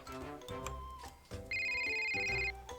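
A telephone rings in the Roblox Hospital Tycoon video game, a bright electronic ring lasting about a second amid game background music, with no talk over it.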